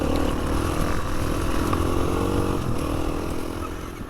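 A dirt bike rides a wide-open trail on the UK Trans Euro Trail, its engine droning steadily and loudly close by with a slight rough, clattering edge throughout.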